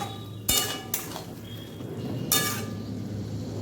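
Fried shrimp being sautéed with bottle gourd in a pan, with a metal spatula scraping and clanking against the pan in a few sharp strokes over a low, steady sizzle.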